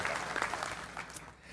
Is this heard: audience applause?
yes